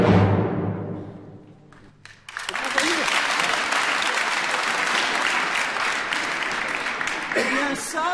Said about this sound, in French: Donc tout le monde veut applaudir.